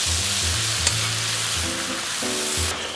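Egg mixture for a breakfast burrito frying and being stirred in a pan, a loud close sizzle with scraping stir strokes throughout and no talk.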